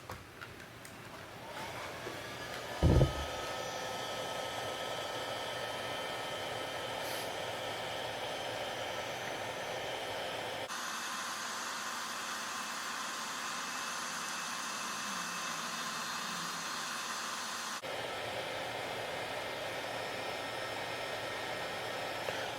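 A heat gun blows steadily and loudly on a tire coating near the Goodyear lettering, heating each section to 250 degrees; the airflow hiss holds nearly unbroken throughout with a short thump near the start.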